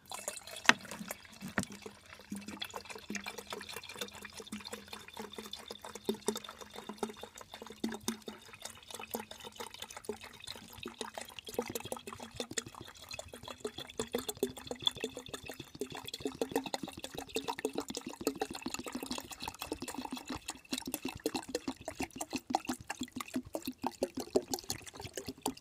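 Coolant poured into a Land Rover Freelander expansion tank: a long, steady gurgling trickle of liquid with irregular splashes and glugs, close and fairly quiet, continuing throughout without talk.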